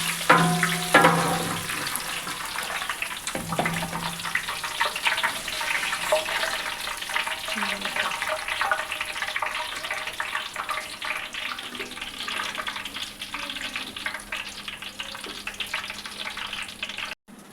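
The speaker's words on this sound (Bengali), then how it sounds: "পানিটা এখন দেখেন ফুটছে।" A large pot of water for polao rice comes to a rolling boil, a steady churning, bubbling roar that runs on continuously at close range, with a few clanks early on and no voices.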